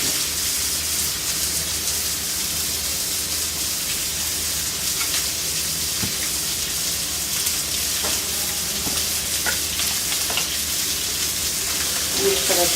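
Soybean dal fries in hot ghee as a continuous, even sizzle with occasional soft stirring scrapes and light clicks, close and steady throughout with no voices.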